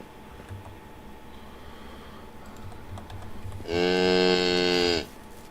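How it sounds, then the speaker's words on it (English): A cow moos once in the Medieval Dynasty video game, a loud, close, sustained low call lasting over a second, after a stretch of quiet ambient game noise. "No, you're a calf. You're a cow."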